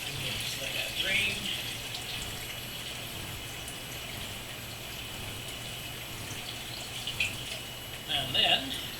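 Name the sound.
water draining from an indoor pond filter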